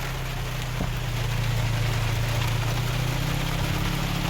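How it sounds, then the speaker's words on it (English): Steady rain hisses without a break over a low, constant hum on Colorado's Alpine Loop scenic byway. "It's raining pretty good."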